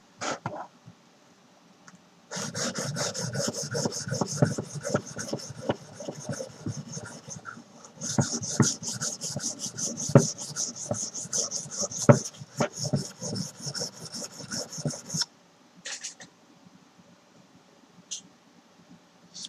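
A knife blade is rubbed back and forth on a sharpening stone in two long stretches of quick, rasping strokes, close and fairly quiet, with short pauses and a few light clicks between them.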